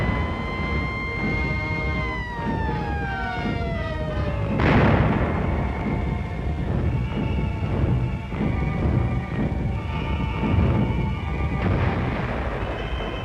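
Wartime anti-aircraft guns fire at German V-1 flying bombs over Antwerp. A falling whistle ends in a heavy blast, followed by a constant roar of rumbling, crackling gunfire in a dense, noisy old recording.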